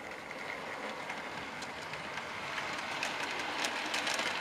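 A model B17 locomotive on a loft railway layout: a faint, steady rolling rumble with light clicking of wheels over rail joints, growing slightly louder as it runs.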